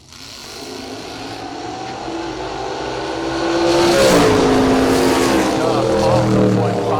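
A 1968 Camaro and a 2002 S10 drag racing on the 540 Outlaw drag strip at an annual classic car event roar loud and sustained, engines rising in pitch as they accelerate, with an announcer talking over them.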